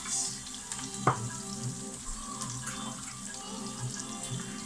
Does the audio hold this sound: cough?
no